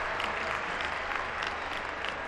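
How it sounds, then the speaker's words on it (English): Sustained audience applause at a gymnastics World Cup in Cairo, as a junior world champion gymnast returns to the parallel bars; a steady, dense wash of clapping from a large crowd throughout. "he's going to be applauded back onto the apparatus"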